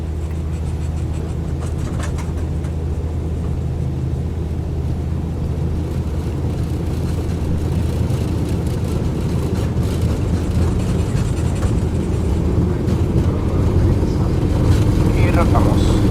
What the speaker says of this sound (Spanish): Empezamos para que puedan escuchar y sentir las vibraciones en cabina, así como el viento fluyendo a través de la estructura de la avioneta.